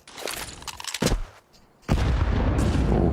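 A grenade explosion in Counter-Strike at a pro tournament, heard as sharp gunfire bursts followed by a heavy, sustained blast rumble that fills the latter half.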